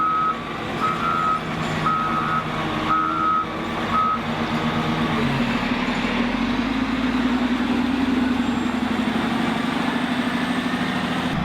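A road grader truck drives slowly past on a back road beside a fishing spot, its heavy engine rumbling close and loud while steady reversing beeps sound at first, then fade as the engine noise builds.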